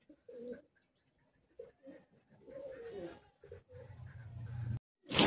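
High-flying Madrasi pigeons in a Kolkata loft give soft, intermittent low coos in short bursts against quiet surroundings, ending with a brief louder rustle.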